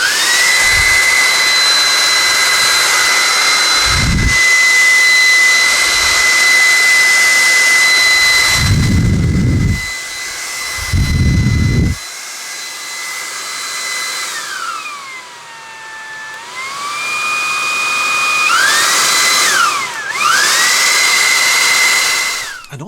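A Dream T20 cordless cyclone vacuum cleaner with removable battery and three speeds, run in turbo mode, gives a loud, sustained high whine with a steady tone. A few low thumps break in, and the pitch dips and climbs again as the speed changes.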